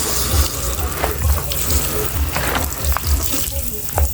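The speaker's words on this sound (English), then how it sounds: "so we'll just give it a quick spray." A water spray hoses down a carbureted vehicle for a quick clean, producing a steady hissing splash with low thumping bursts underneath, loud and close throughout.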